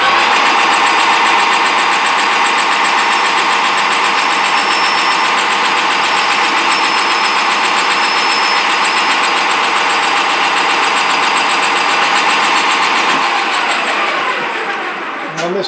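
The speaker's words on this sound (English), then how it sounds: "but I'm going to power bore out." A boring machine power boring out a bore in a part for a tapping machine, producing a loud, steady mechanical drone that runs unbroken before winding down at the very end.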